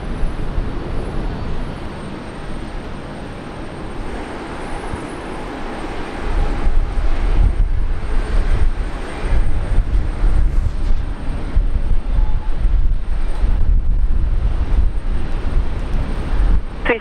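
A Qantas airliner rolls for takeoff on runway 19 left at Brisbane Airport, a loud steady jet roar that swells heavier after a few seconds and holds throughout, with no talk.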